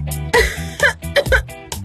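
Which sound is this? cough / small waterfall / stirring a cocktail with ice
cough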